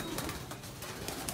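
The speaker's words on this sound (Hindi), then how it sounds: "कौन कौन से हैं कबूतर सारे बताओ" Pigeons, including Shirazi birds, coo softly in a short quiet burst, close by with faint background noise.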